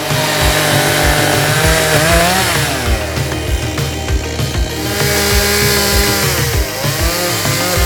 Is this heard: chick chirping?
no